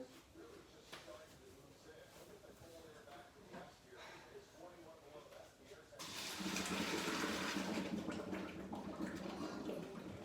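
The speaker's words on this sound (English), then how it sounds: "We're gonna take the noodles and drain them." Water pours and splashes steadily as cooked fettuccine noodles are drained in a kitchen, starting suddenly after a quieter stretch and running loud and continuous to the end.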